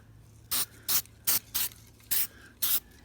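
Rust-Oleum spray paint hisses from an aerosol can onto parts of a Toyota Land Cruiser 100 series in six short, sharp bursts, close and clear against a quiet background.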